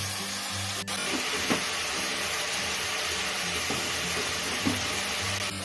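Steady sizzling from a pan of spices and chopped tomato frying for Mughlai chicken, with a few soft stirring clicks and scrapes over the continuous hiss.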